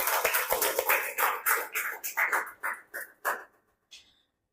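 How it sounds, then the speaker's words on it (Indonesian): Children in a classroom clap together in a rhythmic applause pattern of loud, close groups of claps that gradually thin out, ending with a single final clap. "Oke, kita kasih tepuk tangan dulu."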